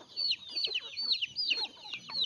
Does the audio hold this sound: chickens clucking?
yes